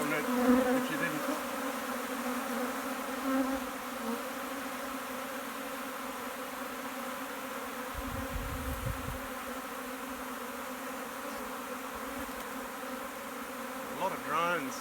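A swarm of honeybees including many drones buzzes in a dense, continuous drone with steady hum throughout, close and sustained, with faint voices briefly underneath.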